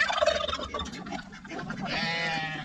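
Farm chickens cluck and squawk up close in a short, busy burst of fowl calls.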